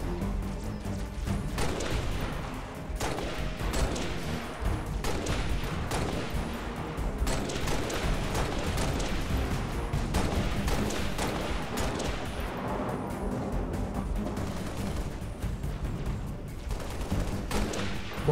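Dense gunfire from the video game Halo Reach rattles continuously in rapid, overlapping bursts of automatic shots and heavy impacts, loud and close throughout with no pauses.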